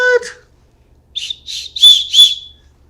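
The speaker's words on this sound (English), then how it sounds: "Emergency whistle?" An emergency whistle gives four short, shrill blasts in fairly quick succession, the last two louder and longer, following a brief voiced sound at the start.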